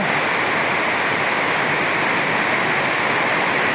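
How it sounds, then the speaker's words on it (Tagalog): Heavy rain roars in a dense, unbroken hiss, loud and steady, with no pauses or voices. "Ang lakas yung ulan."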